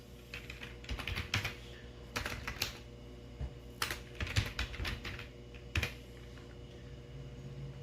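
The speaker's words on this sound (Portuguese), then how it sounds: "Então, ó, Mount C Downloads." Fingers tap on a computer keyboard in quick, irregular bursts of clicks, separated by short pauses, close and fairly quiet, with no voices.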